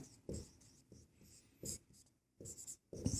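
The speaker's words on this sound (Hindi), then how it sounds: "तो यहाँ लिखते हैं हम हल।" A pen writes out a worked maths solution on paper, with short bursts of scratchy strokes separated by brief pauses, close and fairly quiet.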